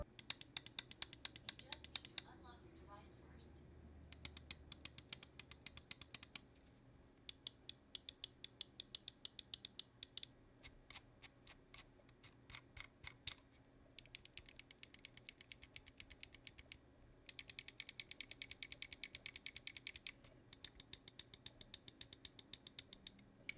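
Buttons on a Glorious Model O Wireless gaming mouse are clicked in rapid, crisp bursts, short runs of sharp ticks separated by brief pauses, close and fairly quiet.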